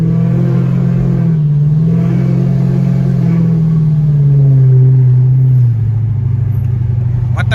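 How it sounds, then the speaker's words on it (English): Loud car engine revving up and down from inside the cabin, a deep droning rumble that rises and falls in pitch and stays close and steady throughout. "One thing about this car is loud as shit"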